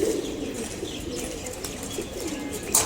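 Pigeons kept in a loft coo softly in a low repeating murmur, with a brief sharper call near the end; no voices are heard.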